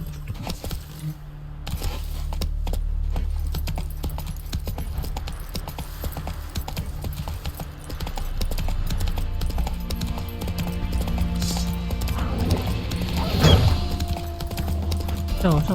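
Roach, a horse in The Witcher 3: Wild Hunt, gallops with steady, loud clip-clop hoofbeats throughout, joined by jingling tack and a brief crash near the end, while a voice speaks faintly in the background.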